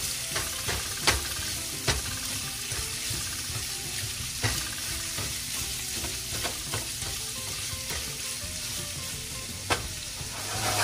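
Sausage fries steadily in a pan, giving a continuous crackling sizzle with occasional sharper pops and light scraping clicks from stirring, at close range and without talk.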